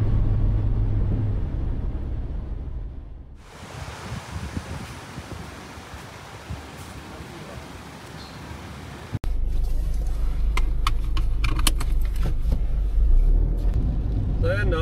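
Toyota Land Cruiser 75 Series engine on a drive along an open road, a steady low rumble with wind noise, louder and closer in the last few seconds.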